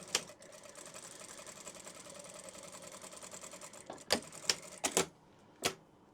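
A sewing machine runs a steady continuous stitch along a quarter-inch seam joining two pieces of scrunchie fabric, then stops and gives a few sharp clicks and knocks near the end.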